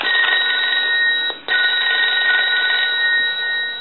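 Telephone bell ringing from an animated M&Ms Polyconcept telephone during a repair demo, a loud continuous electronic bell trill filling the clip with one brief break midway.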